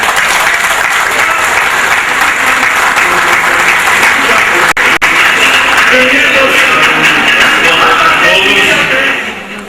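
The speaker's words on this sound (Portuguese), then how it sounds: "Uma salva de palmas para ele." A crowd at a meeting of political pre-candidates at a union hall gives a round of applause, dense, loud and close clapping sustained for nearly ten seconds before cutting off.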